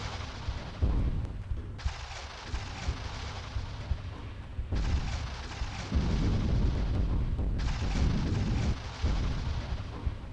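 Gunfire in a shootout from the video game Tomb Raider, heard as loud, dense bursts of shots that come in repeated waves and continue without pause, with no talking.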